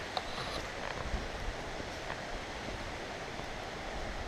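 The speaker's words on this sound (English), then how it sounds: "If you like waterfalls, there's one right there." Steady rushing water from a waterfall beside a stream crossing on a hiking trail, a continuous broadband roar filling the scene with no pauses.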